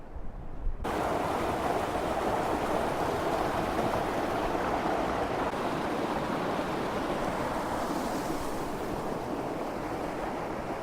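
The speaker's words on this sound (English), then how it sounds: "there's a little waterfall down here" A small waterfall pours over dark rocks, a steady, dense rush of white water that stays close and constant throughout, with no voices.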